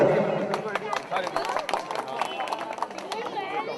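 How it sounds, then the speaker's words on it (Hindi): Applause at a family birthday celebration, brisk, scattered clapping from a small group mixed with lively voices and chatter in a close indoor space. "तालियां एक बार जोरदार प्लीज।"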